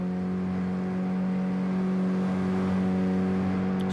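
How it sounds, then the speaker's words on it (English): Mini Cooper race cars at Goodwood Circuit idle with a steady engine drone, revs held high on the grid just before a reverse-grid race start; a continuous loud hum with slight fluctuation, no talk. "Someone's already got the revs stamped."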